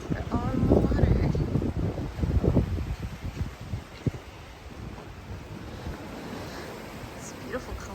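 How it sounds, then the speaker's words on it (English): Gusty wind buffets the microphone at a seaside waterfront in Sorrento, Italy, with heavy rumbling bursts early that ease into a steadier, softer rush, while a person talks over it. "So I've given up my fight against the wind."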